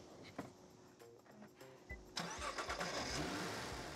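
A 2025 Nissan R35 GT-R Premium edition T-spec engine cranks and starts, catching with a sudden rumble and settling into a steady idle after a few quiet clicks.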